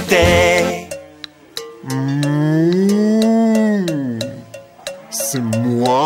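A cow moos in a French children's song, long drawn-out lowing notes rising and falling over a bright, clearly pitched musical backing, loud and close, with short pauses between phrases.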